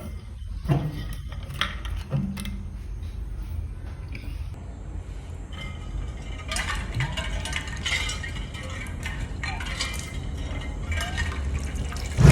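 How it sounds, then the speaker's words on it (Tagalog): Kamias fruit is rinsed under running water, making a continuous splashing flow with drips and a few glassy clinks that grow busier toward the end. "At habang naguhugas ako ng kamyas"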